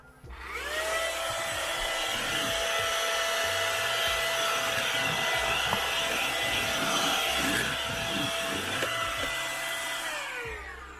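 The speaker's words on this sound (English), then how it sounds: "As you can see, it's a vacuum cleaner." Small handheld vacuum cleaner, a campervan gadget, starting up, running with a steady high whine and airy rush for about ten seconds, then winding down, close and without talk.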